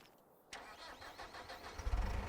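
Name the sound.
Fendt Farmer 300 tractor engine starting, Farming Simulator 25 video game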